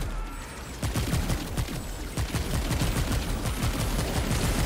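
Rapid automatic fire from a weapon in Remnant 2 rattles in dense, sustained bursts, loud and close, with no voices over it.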